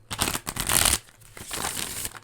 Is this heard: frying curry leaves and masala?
no